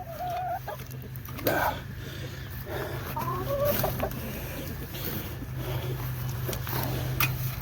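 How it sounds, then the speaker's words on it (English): Backyard chickens clucking at close range in a coop during a routine chore session, with short overlapping calls and a few louder squawks over a steady low hum; a person speaks briefly nearby. "Thirsty chickens."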